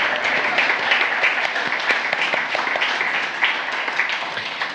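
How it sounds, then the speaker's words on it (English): An indoor museum audience claps steadily for several seconds, a dense, even wash of applause without pauses. "So everyone, could you please give a round of applause to Leslie?"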